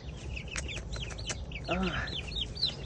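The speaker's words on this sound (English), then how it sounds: "you can't come in and enjoy the little pecks with your chickens or your turkeys" Chickens cluck and chirp inside a backyard coop, a busy overlapping chatter of short peeps and clucks at moderate loudness, with a brief human grunt partway through.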